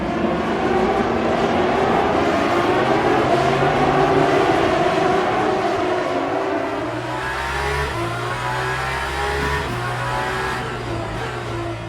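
Aston Martin Valkyrie V12 race cars in a racing video game at Monza, heard from outside at the race start: a loud, dense pack of high-pitched screaming engines revving and shifting, climbing and dropping in pitch continuously.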